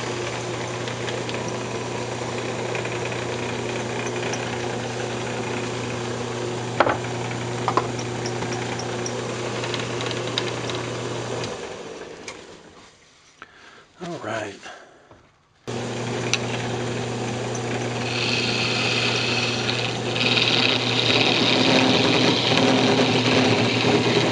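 A wood lathe spins a cocobolo box with a steady motorized whir and hum that fades and cuts out about halfway through. It then starts up again and runs at full speed to the end.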